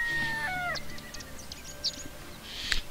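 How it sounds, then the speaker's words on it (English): Noisy chickens in the Skyrim video game give a quick run of clucks and squawks, a few sharp calls scattered over a couple of seconds with a louder cry near the end, with no talking. "There's some particularly noisy chickens here"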